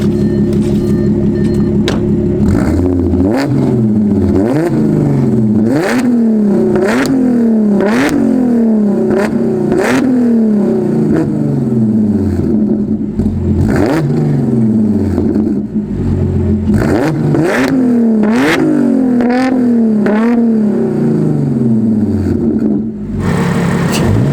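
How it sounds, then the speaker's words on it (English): Supercharged Audi S4 with its mufflers removed, revving loudly and repeatedly, the engine note climbing and falling in a steady series of sharp throttle blips over about twenty seconds. "I made it a little bit louder by taking off the mufflers, and it sounds great. Also, with the supercharger, it kind of sounds like a mini Hellcat"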